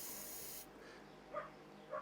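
Carburettor cleaner sprays into the carburettor of a Husqvarna 123HD60 hedge trimmer as a loud, continuous hiss that cuts off abruptly, leaving quiet faint clicks and dribbling afterward.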